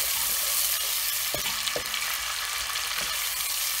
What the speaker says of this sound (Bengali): পেঁয়াজটা প্রায় এক মিনিট ধরে নাড়াচাড়া করব